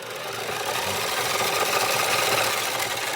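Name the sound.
Beyblade motor strike stadium spinning counterclockwise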